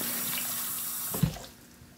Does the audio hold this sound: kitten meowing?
no